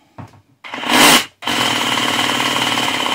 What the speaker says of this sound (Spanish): ¿Oís el tuc, tuc, tuc, tuc, tuc? Ahí sería con percutor.